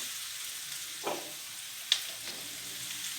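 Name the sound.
chopped fresh tomatoes and green chili added to sizzling pan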